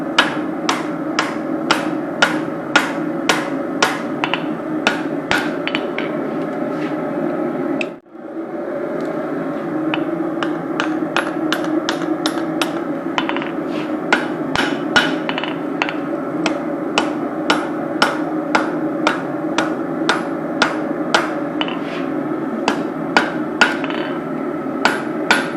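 Hot steel for a forged knife takes rapid, even hammer strikes to knock a corner off, a long close run of loud metallic blows over a droning background with one brief pause early on.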